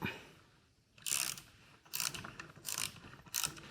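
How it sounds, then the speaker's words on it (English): A torque wrench clicks in four short, sharp metallic bursts, spaced about a second apart, while a new bar end bolt is tightened on a BMW R1250GSA motorcycle, quiet and close. "Then torque it up."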